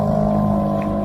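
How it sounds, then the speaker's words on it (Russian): Steady low drone of a boat motor running continuously on the Sinyaya river, loud and close, with a constant hum and no breaks. "сейчас вот мы плывем на моторе вместе"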